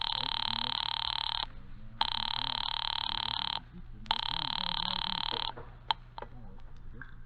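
An old rotary-style telephone bell rings in three long, loud bursts with short gaps between them, in a vintage suspense radio drama, followed by faint clicks and line noise.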